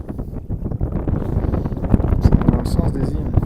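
Wind buffets a sailing boat on open water near islands off Sweden, a steady rushing roar on the microphone while the vessel moves fast, with a person speaking over it.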